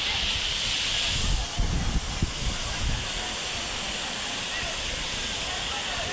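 Water pours steadily over Kodiveri waterfall, a constant close hiss and rush of flow, thinned because water is drawn off for irrigation. Some low thumps from handling sit near the start.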